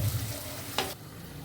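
Onions frying in a little oil for a light, healthy chicken curry give a continuous close sizzle, with one brief scrape of stirring partway through before the hiss softens.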